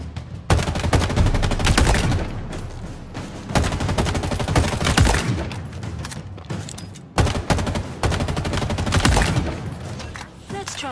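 Live-round gunfire in the Halo Infinite academy tutorial, sustained bursts of loud automatic shots in rapid succession with short gaps between volleys, close and sharp.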